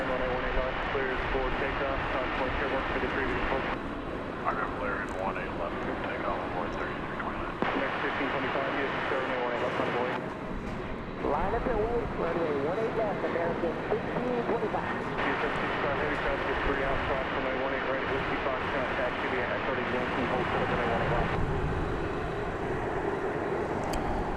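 A big UPS Boeing 767 idling on the runway at night at DFW, its steady engine rumble droning on, with someone talking over it throughout.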